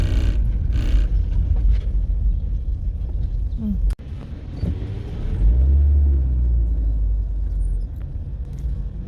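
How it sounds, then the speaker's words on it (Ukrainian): A car driving slowly over cobblestone streets during busy tourist season, with a steady low rumble and rattle that carries through most of the clip, plus a brief sharp knock near the middle. "Я їду тут бруківкою, може вам трошки забивати."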